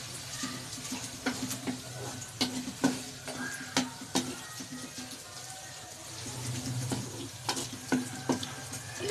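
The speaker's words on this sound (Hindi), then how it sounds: "इसके साथ इसकी 5 मिनट भुनाई करेंगे ताकि लहसुन अदरक के साथ भून जाएगी" Ginger garlic paste fries in a pot for aloo chicken shorba, a soft sizzle broken by repeated sharp scraping and stirring clicks from a spoon, fairly quiet and close.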